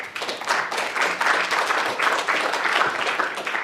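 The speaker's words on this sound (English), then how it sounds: "So can everyone give a round of applause for Ben?" An audience at a hospital research week event gives a round of applause. The clapping is moderately loud and steady, with a dense patter of many hands that lasts a few seconds with no voices over it.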